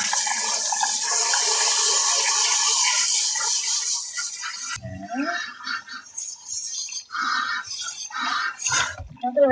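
Running water rinses degreaser off a dog's head and front paws during a bath, first a steady loud rush, then broken splashing and trickling as the flow is moved over her, with no talking.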